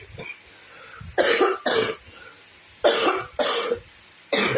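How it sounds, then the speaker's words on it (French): A woman coughs repeatedly in short, loud bursts, two pairs of harsh coughs followed by a single one, alone with no speech around them. "Excusez-moi, j'ai la toux."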